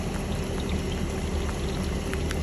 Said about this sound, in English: It's been raining like this all day.